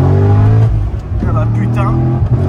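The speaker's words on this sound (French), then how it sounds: "Le son de la 430, c'est dingue." A Ferrari 430 sports car engine revving with its exhaust valves opening under acceleration, a deep throaty drone that climbs in pitch, heard close under excited talk.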